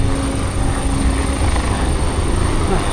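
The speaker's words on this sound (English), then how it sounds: "Is that a helicopter I can hear?" A helicopter flies overhead in Hong Kong, its steady rotor thrum and engine whine filling the air continuously, loud and close, with no talk over it.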